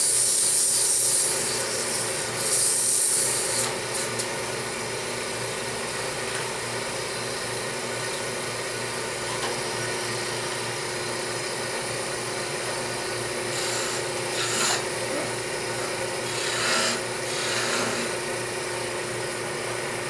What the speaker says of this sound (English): sand it just a hair.